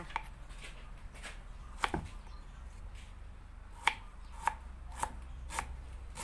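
A knife slices galangal on a board: sharp, crisp cuts come in a scattered run, a few close together then a pause, then more, quiet and close with no talk.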